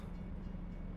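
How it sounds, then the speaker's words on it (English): A train rumbles past in American Truck Simulator, a steady low, faint rolling drone of rail cars with no distinct horn. "Of course. There's a train."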